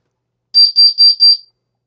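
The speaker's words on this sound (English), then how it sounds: "we did get an alarm and it is giving us the carbon alarm sound" A Honeywell 5800CO carbon monoxide alarm, under test, beeps four times in quick succession, shrill and loud, then falls silent.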